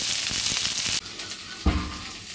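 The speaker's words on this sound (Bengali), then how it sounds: "এবার কিছুক্ষণ নেড়ে নেব।" Bottle gourd and matar dal are stirred in a frying pan, giving a steady, close sizzle with faint scraping. The frying noise drops a little partway through, and a soft thud follows.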